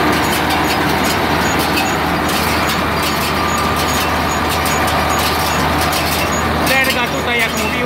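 A John Deere 6810 tractor runs steadily while hitched to a Claas Variant 485RC round baler, a loud continuous diesel drone with a low rumble and faint high whine, and someone speaks over it.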